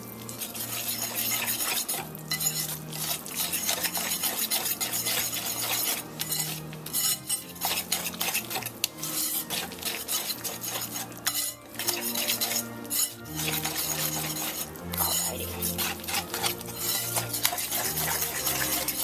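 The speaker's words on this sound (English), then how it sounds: "I'm going to use my little whisk that has an egg on the end of it. A bovine egg. And just whisk it all together." A small whisk beats a mung bean mixture in a bowl, a fast, continuous metallic clinking and scraping against the sides for a long stretch, close and fairly loud, with soft background music underneath.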